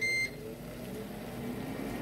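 An air fryer's stop beep sounds once at the start, a loud steady tone lasting about a quarter second. A low appliance hum and faint kitchen noise continue for the rest.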